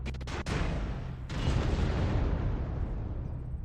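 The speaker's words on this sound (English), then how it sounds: "they're doing an airstrike on this guy?" Airstrike explosions in the mech combat game MechWarrior Online: a quick burst of sharp cracks followed by heavy rolling booms that rumble on loudly throughout.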